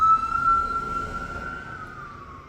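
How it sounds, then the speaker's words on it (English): An emergency vehicle siren wails in the background as a steady rising-and-falling tone, fairly far off and moderately loud, with no talking over it. "And also, right then, we had the siren in the background."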